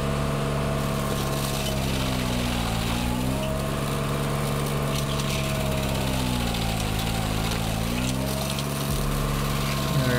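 A stump grinder chews through a soft pine stump with a loud, steady mechanical drone, the engine pitch sagging and recovering in slow waves as it bites in, running continuously throughout.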